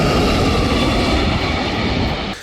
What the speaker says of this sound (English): it is so loud because of the engine thrust.